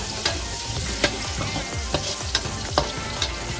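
Minced pork stir-frying in a wok with Chinese rice wine for a pork and fish dish, a steady close sizzle broken by several sharp spatula scrapes and clacks at irregular intervals.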